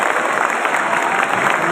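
Loud, dense audience clapping welcoming a speaker, Parijat Mishra, to a NEET counselling session, steady and close throughout with a faint high tone in the background.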